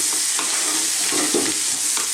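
Spice-coated tofu pieces stirred around a hot pan, giving a steady close-up scraping and soft sizzle with a few louder stirring strokes, no talking.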